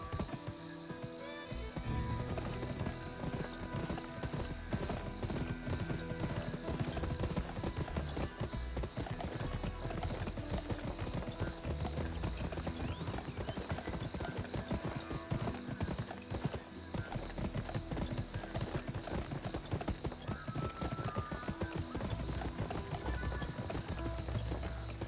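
Rapid clip-clop of galloping hooves during a horse race in the video game GUN runs steadily over a dense, loud backdrop of music and game sounds, with an occasional whinny.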